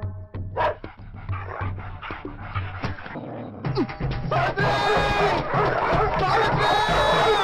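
Stray dogs bark and yip in a run of loud, close bursts during hot summer weather, and some whimpering can be heard between barks.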